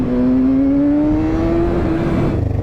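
A Kawasaki Ninja motorcycle is ridden nearby, its engine droning loud and steady with a slowly rising pitch as it accelerates, with no talking.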